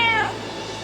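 Cats meowing as character voice lines for the Shaco cat skin in League of Legends, with a short rising-then-falling meow that fades into a steady background hum.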